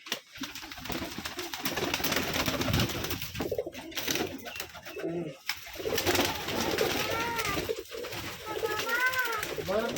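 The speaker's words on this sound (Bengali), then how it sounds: "আসলে কবুতরগুলো অনেক ভয় পেয়ে আছে" Rajshahi Giribaj pigeons on a farm, the birds frightened, coo repeatedly at close range amid steady background noise and rustling, with calls rising and falling throughout.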